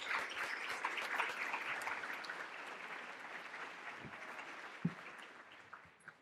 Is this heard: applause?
yes